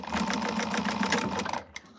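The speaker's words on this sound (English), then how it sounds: "So I'm just going to stitch this shut just to hold it shut." A sewing machine runs a fast, steady top stitch to baste shut the raw end of a quilted wristlet, a rapid even whirring clatter for about one and a half seconds before stopping abruptly.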